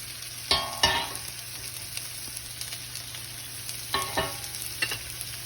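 Vegetables sautéing in a pan for veg kurma, a constant close frying sizzle broken by a few scraping stirs of a spatula against the pan, no talk.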